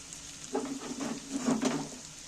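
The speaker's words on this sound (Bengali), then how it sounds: "সেদ্ধ ডালটা আমি ওর মধ্যে তুলে নিচ্ছি" Boiled lentils spooned into a hot frying pan, giving a short soft sizzle with two brief bursts of scraping and hissing, close and moderately loud.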